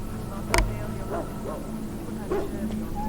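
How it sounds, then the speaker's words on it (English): Hounds bark and yip in the video game Dragon Age: Origins. There is one sharp bark followed by softer whimpering yelps, all under the steady game ambience. "I must get the hounds ready for battle"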